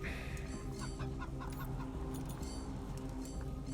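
Chickens cluck in a Wasteland 3 game scene, a steady run of short clucks over a constant low background hum of game ambience and music.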